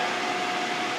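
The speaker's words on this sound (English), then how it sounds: "now it's blowing cold air" A T-Fal air fryer's fan blows cold air because its heating element is faulty, giving a steady, close broadband whoosh that holds even and unbroken for the whole second with no talk over it.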